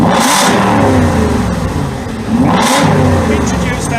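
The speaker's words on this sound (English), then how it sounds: "So let's just repeat the revving." An Aston Martin V8 Vantage engine revs loudly with its exhaust valves held open, two big blips rising and falling close by, with a raspy, crackling exhaust note.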